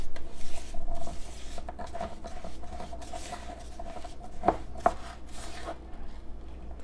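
Sugar is worked into a pumpkin body scrub in a bowl, giving a steady gritty scraping and patter of stirring with a couple of sharper clicks partway through.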